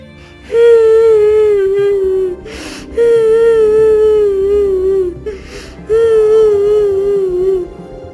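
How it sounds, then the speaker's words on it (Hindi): Someone crying in a forest, three long, loud wailing sobs with short breathy gaps between them. "ये रोने की आवाज किसकी है?"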